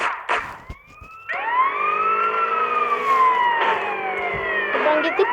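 Police siren during a video game chase, a loud wailing tone that rises and falls with overlapping layers, cut by a few short bursts and clicks at the start.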